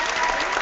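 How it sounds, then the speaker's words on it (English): A talk-show host claps alone to welcome a first-time guest on a book-publishing program, a brief steady patter of close, dry hand claps with no voices. "I clap for you"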